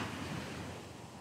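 Surf rolling onto the shoreline of a coastal barangay in Northern Samar, a brief, steady roar of breaking waves mixed with wind buffeting the microphone.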